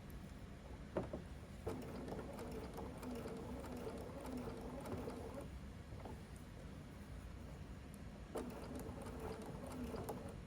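A sewing machine runs steady straight stitches across a quilted placemat with tucked-under raw edges, its mechanical whir rising and pausing in short bursts, with small clicks at each restart.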